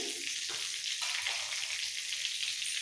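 Whole spices (bay leaves, cinnamon, cloves, cracked cardamom and cumin seeds) sizzle and crackle steadily in hot oil for a Bengali potol chingri tempering, a continuous bright fizz with no talk.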